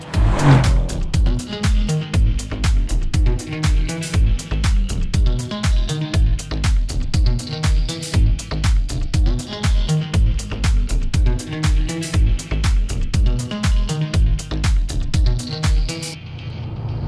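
A 2015 Mercedes-Benz C63 S AMG with its turbocharged V8 revs repeatedly, loud and close, in rhythmic bursts of rising and falling engine roar, alone without talk.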